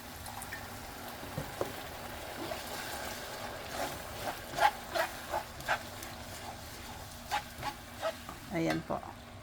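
A spoon stirs a blended fresh jackfruit mixture in a pan, giving a series of soft scraping strokes in an irregular rhythm over a quiet kitchen background.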